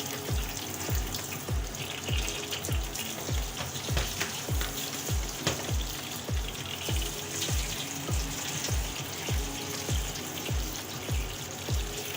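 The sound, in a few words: water drained from boiled food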